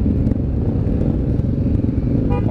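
Dirt bikes, including a Yamaha WR 155, a Gazgas 250 and a Kawasaki KLX, ride close by on a trail, making a steady loud engine drone with clattering and rumble and no clear revving peaks.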